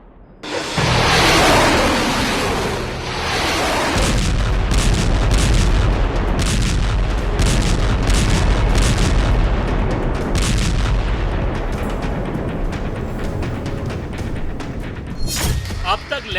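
Heavy artillery fire and missile strikes in the Hezbollah-Israel conflict, a loud continuous barrage of booms and thuds that rumbles on without pause, with a sharper burst near the end.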